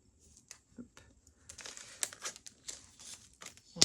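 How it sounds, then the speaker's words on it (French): A paper package for a craft cutting die rustles and crinkles as its tab is unfastened, with a bit of sticky tape peeled away, giving soft, close, irregular crackles and a sharper snap at the end. "Donc il suffit de défaire la languette là-haut."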